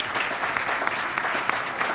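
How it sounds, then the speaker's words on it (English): Audience applause for a higher-education panel discussion, steady, dense clapping from a crowd filling the whole stretch at an even, moderate level. "give a round of applause to our panel."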